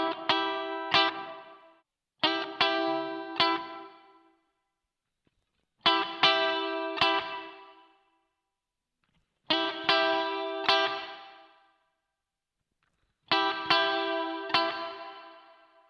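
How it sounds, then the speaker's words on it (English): Five bright, distorted guitar chord bursts through a Mad Professor Silver Spring Reverb pedal with tone turned up, each splashing into a shimmering, trebly spring reverb tail that rings out before silence, with clear gaps between them. "You can hear the top end of those tails a little bit easier to hear with that tone control turned all the way up."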